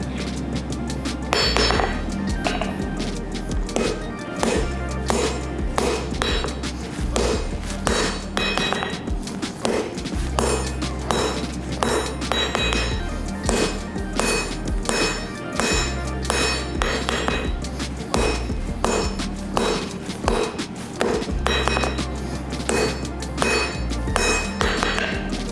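A hand hammer strikes Damascus steel for a Bowie knife blade with steady, loud, ringing metallic blows that repeat rapidly and continuously, close by and without speech.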